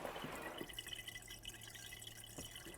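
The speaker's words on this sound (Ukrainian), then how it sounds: "Ще одна важлива фішка тихий насос." ELS PET pet water fountain with its quiet pump running, a soft steady trickle and drip of circulating water with a faint low hum, close and gentle throughout.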